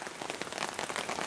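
Heavy rain pours onto a campsite shelter, a dense, even patter of drops drumming on the surface, close and continuous for a brief moment with no voices.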